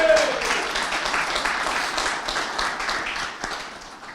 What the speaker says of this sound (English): So let's give a round of applause for all that James has